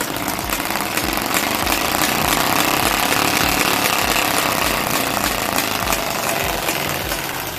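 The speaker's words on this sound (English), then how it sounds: "if you want your bike to sound like a motorbike, this is the trick." A rapid, continuous motor-like rattle of a plastic peg flap clicking fast against bicycle spokes, loud and steady throughout with a buzzing, engine-like texture.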